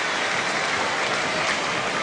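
A large crowd at a 1982 rugby league match between Canterbury and St. George gives off a dense, continuous roar of cheering and clapping, steady and enveloping for the short stretch.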